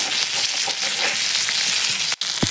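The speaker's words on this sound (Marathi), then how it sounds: "आता मासे चांगले फ्राय झालेले आहेत, आपण काढून घेऊयात।" Fish fries in a pan over a wood-fired village stove, a dense, loud hiss of oil filling the moment, with a brief clatter near the end.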